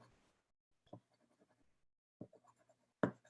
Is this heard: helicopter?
no